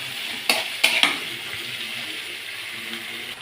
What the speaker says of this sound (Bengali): পটলগুলো দিয়ে আরেকটু বেশ কষিয়ে নেব